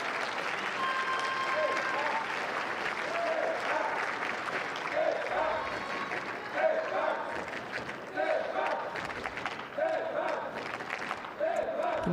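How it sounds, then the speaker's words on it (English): French and Japanese supporters chanting in a tennis crowd at the London 2012 Paralympic wheelchair tennis men's singles gold medal match, France versus Japan: steady rhythmic chants and clapping from a large distant crowd, with commentary talk over it. "You can hear the French supporters in the crowd there chanting for Stephane Houdet."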